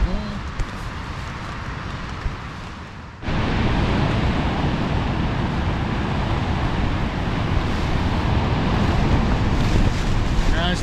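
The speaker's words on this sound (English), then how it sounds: "the gusts are pretty severe" Strong, roaring wind from Storm Aiden buffets the microphone at a wild campsite, jumping abruptly louder after a few seconds and then blowing steadily and harshly to the end.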